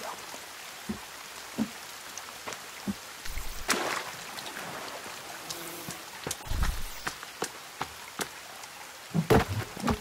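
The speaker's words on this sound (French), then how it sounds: "mais la pluie sans fin," Steady rain falls in the survival video game The Forest, a constant hiss of drops with scattered sharper taps and thuds throughout, with no voices.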